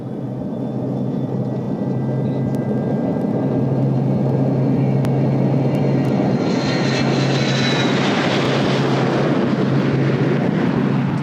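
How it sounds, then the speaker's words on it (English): Airliner engines roar at takeoff power in a steady, loud, continuous drone heard from inside the cabin, building slightly in intensity with a rising whine partway through. "Power on those engines, that's the best part of the whole flight."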